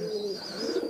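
High flyer pigeons coo in a breeding loft, a steady, close, throaty coo that swells slightly toward the end, with no voices over it.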